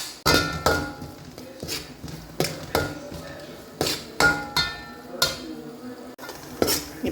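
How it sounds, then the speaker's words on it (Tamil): Cardamom is pounded by hand for a sweet snack of sugar syrup, coconut and flattened rice, giving a series of sharp, irregular knocks and crunches, close and loud, with no talk. "இதில் இப்போ நான் கொஞ்சமாக ஏலக்காய் பொடிச்சு சேர்க்குறேன் பாருங்கள்."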